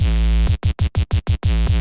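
A deep, booming 808 sub-bass note stuttering in a quick run of about six short repeated hits before sustaining again.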